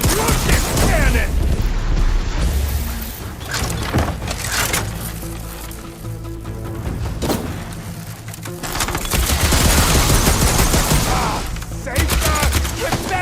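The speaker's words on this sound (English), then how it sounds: "I love this cannon!" Repeated heavy cannon blasts and booming impacts in the action game Horizon Forbidden West, loud and continuous under a dense battle soundscape and combat music.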